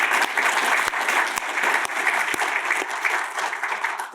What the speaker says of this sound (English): could we just have a little bit of a round of applause for the team